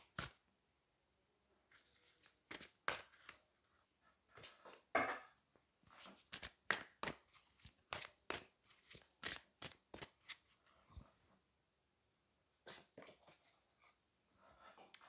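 Tarot-style cards being shuffled and drawn during a card reading: a long run of crisp, close riffling snaps and flicks in irregular bursts, with no voices.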